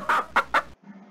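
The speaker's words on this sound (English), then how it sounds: "Hen." A hen clucks three times in quick succession, loud and close, with a faint low hum lingering after the last cluck.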